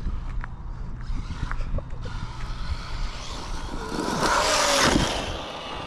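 A Traxxas Maxx Slash RC truck fitted with a new motor runs nearby, a quiet rumble and rattle that swells into a louder high whine as it speeds up toward the end.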